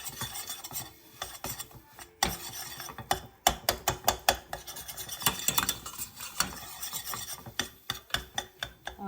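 Flour roasting in a pan over low heat while a spoon scrapes and stirs it, producing repeated close scraping and clinking strokes in an irregular rhythm, with no talking.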